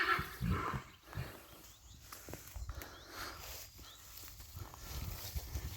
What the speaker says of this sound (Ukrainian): І от пасеться така кобила.